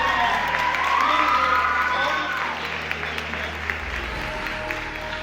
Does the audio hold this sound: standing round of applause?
yes